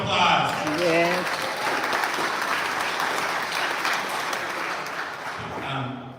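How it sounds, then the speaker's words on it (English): A church congregation applauds two people with a full, even burst of clapping from many hands, while voices are heard at the start and end around it. "Let's give them a round of applause"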